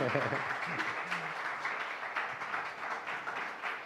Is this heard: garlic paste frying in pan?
no